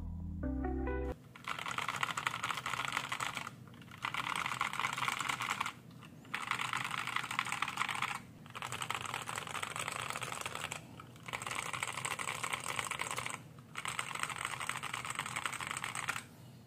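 Typing on a modded Inplay NK680 65% mechanical keyboard with foam and tape mods and new keycaps, fast close clacky keystrokes in bursts of about two seconds separated by short pauses.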